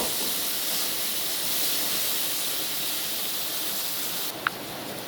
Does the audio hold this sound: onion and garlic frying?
yes